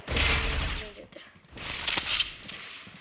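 Assault rifle fire in the mobile shooter Critical Ops, loud and close, comes as two dense bursts of rapid shots with a short break between them, mixed with game effects and a voice talking faintly.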